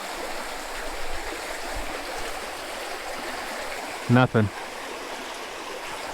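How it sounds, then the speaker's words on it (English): A small waterfall in a dirty, shallow mountain ditch gives a steady rushing, trickling wash throughout, close and even, with a brief spoken word over it partway through. "There's a little waterfall."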